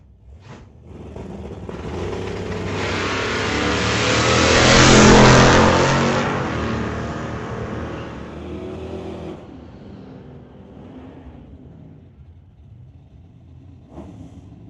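A 1981 Camaro and a Tahoe launching in a drag race, engines roaring as they rise to a loud peak and then recede into the distance, with no talk.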